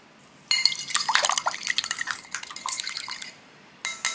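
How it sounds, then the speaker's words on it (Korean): Egg, salt and milk are whisked together in a lidded container for French toast. Quick, irregular clicks and clatters of a utensil striking the container come close and bright in uneven bursts, stop briefly, then start again. "우유도 넣고 잘 섞어줍니다."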